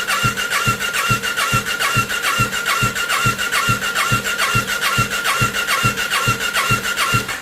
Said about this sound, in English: with this hand, I'm going to go over to the starter button and hit the starter